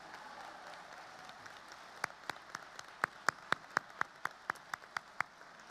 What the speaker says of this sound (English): Another round of applause for both Muhammad and Alex, please.